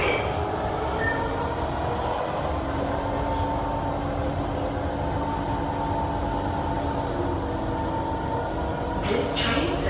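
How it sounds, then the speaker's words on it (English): A metro train runs on the line to Pasir Ris, a loud continuous rumble and roar with faint squeals near the start and end. "This train service will end at Pasir Ris."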